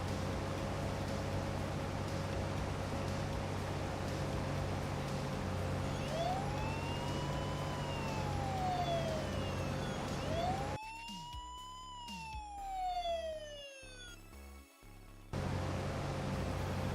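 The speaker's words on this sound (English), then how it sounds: "We're going to be hearing the sirens for a little while." Emergency sirens in a Farming Simulator game wail in slow rising and falling sweeps, with a second siren overlapping later over a steady low engine-like hum, moderately distant and continuous.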